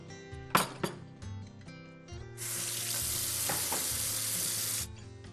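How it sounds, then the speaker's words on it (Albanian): Meat fries in a pan in a home kitchen, with a few sharp clinks of utensils at first, then a loud steady sizzle lasting about two and a half seconds before it stops. "Derisa të zbardhet, skuqet mishi."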